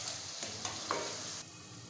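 Onion, tomato and masala fry in a pan for chana dal, giving a steady close sizzle broken by a few soft stirring scrapes, with no voices.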